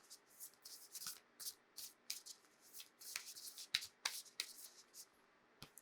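A deck of angel oracle cards is shuffled by hand up close, a quiet run of crisp riffling and sliding bursts in an uneven rhythm with no speech.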